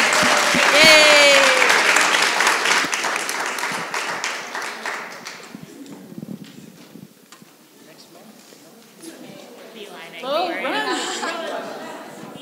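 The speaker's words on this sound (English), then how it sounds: "Can we get one more round of applause, please?" An audience at a talk on social media and justice breaks into loud applause that gradually fades. Murmured chatter follows, and a second, shorter burst of clapping rises near the end.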